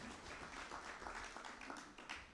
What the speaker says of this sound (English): One round of applause to Olympic High School.